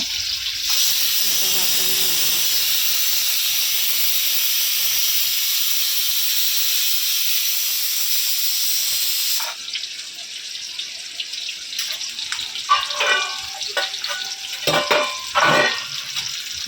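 Garlic, tomato, curry leaves and green chilli hit hot oil in a pan for tempering a padwal (snake gourd) dish, giving a loud sustained sizzle that cuts off abruptly, followed by quieter clatter and stirring sounds.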